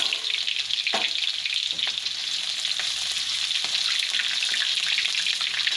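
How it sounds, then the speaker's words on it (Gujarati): Ginger, green chillies and red chilli powder sizzle steadily in hot oil in a pan for a soybean curry, a continuous close frying hiss with a few brief sharper spits and no talk. "અને આપણે આદું નાખી દઈશું અને આ મરચાં નાખી દેવું અને આ લાલ મરચું નાખી દઈએ"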